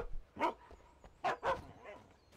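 Dog barking in the Alan Wake video game, a few short separate barks with gaps between them, moderately close and fairly quiet, no talk over them.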